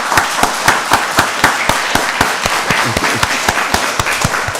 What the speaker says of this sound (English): let's give another round of applause to Judge Wood and the Family Treatment Court